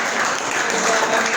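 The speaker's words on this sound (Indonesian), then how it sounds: "Oke, tepuk tangan." Applause from a classroom audience after a student presentation on coding and artificial intelligence, a brief dense wash of clapping with crowd murmur.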